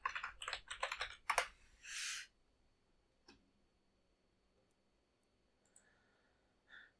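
Rapid keystrokes on a computer keyboard as a name is typed for a surface in CAD software: a close, dense burst of typing for about two seconds, then near silence with a few scattered clicks.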